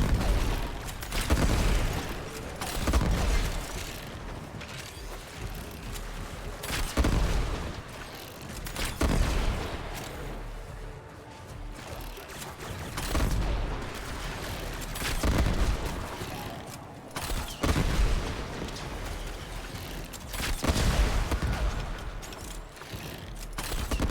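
Shotgun-like weapon fire in the video game Warframe, a flak-cannon style gun, with repeated loud booming blasts at irregular intervals and quieter mechanical gaps between bursts, no talking.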